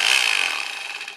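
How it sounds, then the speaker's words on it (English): A Bosch Bulldog Extreme rotary hammer runs continuously with a loud, rapid, buzzing hammer action that fades slightly toward the end, with no talking. "I use my Bosch hammer,"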